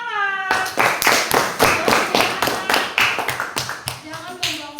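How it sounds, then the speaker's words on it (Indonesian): Classroom clapping in a rhythmic pattern, sharp synchronized bursts of many hands repeating in a regular beat, with a voice briefly heard at the start and again near the end. "Ya, oke, tepuk tangan."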